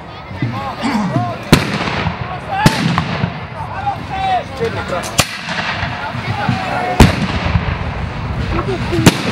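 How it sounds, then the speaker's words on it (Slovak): Muskets fired by an Austrian unit during a reenactment of Napoleon's 1809 siege of Bratislava: five sharp, loud reports spaced a second or two apart, over continuous crowd chatter and outdoor bustle. "Cvičená rakúska jednotka strieľa."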